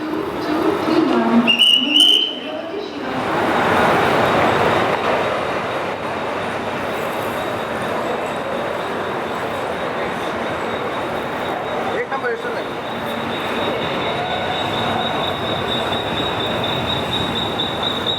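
The Vidarbha Express rolls along the rails near Dadar station, bound for Mumbai, a loud steady rumble with wheel noise and a high squealing tone after a brief knock early on, continuous throughout.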